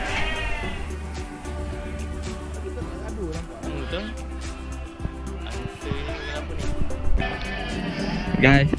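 Goats bleat repeatedly during Eid al-Adha 2023, some calls near and loud, mixed with people talking and shuffling movement around them.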